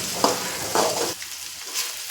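Sliced onions fry in hot oil in a pan for spicy masala Maggi rice, giving a steady close sizzle with soft scraping bursts as they are stirred.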